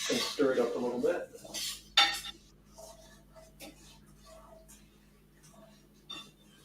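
A utensil scrapes and clinks against a frying pan while stirring orzo, with soft stirring noises and a faint sizzle in the background.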